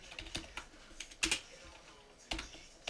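Keys clack on a computer keyboard while ActionScript code is written for a Flash CS4 website, quiet and close, in a few short clusters separated by brief pauses.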